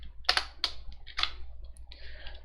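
Computer keyboard typing code for a Python paint app, a handful of crisp close keystrokes in short bursts with brief gaps, no voice.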